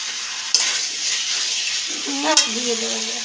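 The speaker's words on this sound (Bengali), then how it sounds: "তো এই যে ছোলার ডালটা দিয়ে দিয়েছে এখন এটা দিয়ে একটু নাড়াচাড়া করবে" Chana dal and raw pumpkin frying in a pan, stirred with a spoon: a close, steady sizzle with a couple of sharp scrapes, and a brief voice-like tone near the end.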